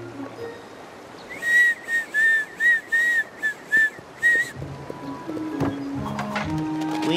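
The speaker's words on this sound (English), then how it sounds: "Sometimes, when I'm scared to try something new, I whistle." A cartoon character whistles a short tune of about nine bright notes, fairly close and clear, over faint water and canoe sounds, followed by voices talking.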